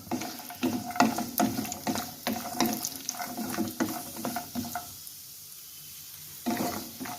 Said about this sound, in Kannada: ಡ್ರೈ ಫ್ರೂಟ್ಸು ಚೆನ್ನಾಗಿ ಹುರ್ಕೋಬೇಕು ಇವಾಗ ಎಣ್ಣೆಯಲ್ಲಿ